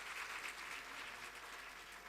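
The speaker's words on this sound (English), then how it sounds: "Can we get another round of applause for the enchanting Northeast" An audience at an agricultural value-chain conference session in Hall 2 gives a round of applause. The clapping from many hands is steady, faint and distant, and lasts the whole moment without any talking.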